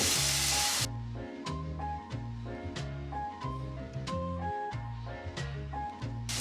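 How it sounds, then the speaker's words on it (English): Onions and garlic fry in a pan for lumpia and are stirred: a loud burst of sizzle, then steady frying with regular, rhythmic scraping strokes close by. "Give it a stir."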